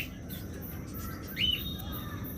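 Green opaline budgerigars in a breeding cage give a single short chirp partway through, faint and thin over a steady background noise.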